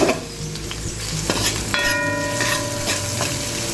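Clumps of ginger and garlic mashed into a curry frying in a pot, a loud continuous sizzle with stirring and scraping, plus ringing metallic tones from the utensil against the pan, with no talk.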